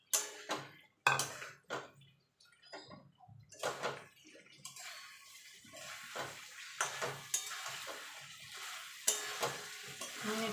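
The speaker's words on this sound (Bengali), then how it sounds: "এবার আলুগুলো দিয়ে দেবো। আলুগুলো দিয়ে ভালো করে মশলার সঙ্গে মিশিয়ে নেব।" Potatoes being stirred into a frying spice paste in a pan for dahi aloo dum, with scraping spoon strokes and bursts of sizzling, intermittent at first then more continuous, close and without talk.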